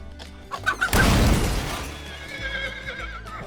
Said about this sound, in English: Horse-drawn carriages.